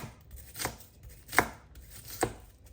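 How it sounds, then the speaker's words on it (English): A knife finely chopping an onion on a board for a vegan dabeli burger, with a few distinct sharp cuts spaced irregularly, close and fairly quiet, with no voices. "Next, I'm going to finely chop an onion."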